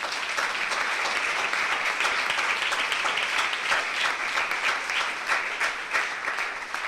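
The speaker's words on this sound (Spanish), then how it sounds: "Vamos a dar un aplauso al Señor" A congregation applauds at a Catholic religious retreat, dense sustained clapping from many hands filling the room for several seconds.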